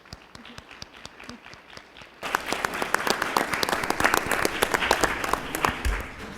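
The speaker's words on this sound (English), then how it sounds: "In a round of applause" A room full of people claps together in sustained applause at a city commission meeting in Harlingen, starting softly with scattered claps, then swelling loudly and evenly for several seconds.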